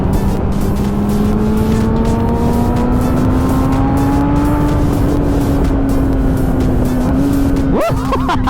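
A 2017 Kawasaki ZX10R sport bike, ECU-flashed with a quick shifter and auto blip, screams loud and close, its engine note climbing steadily through the gears with quick shifts before a sharp drop at the end.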